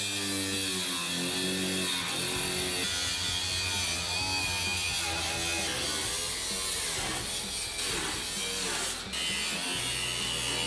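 A power tool cuts through the sheet-metal floor of a 1973 Dodge Charger, a loud, continuous buzzing grind that holds steady from start to finish with only a brief dip near the end.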